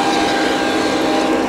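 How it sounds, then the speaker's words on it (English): Model train running on a layout at a metro-area model train show, a steady continuous rolling rumble with clattering detail, fairly loud and unbroken throughout the short stretch, with no speech over it. "The train's getting slower, Val."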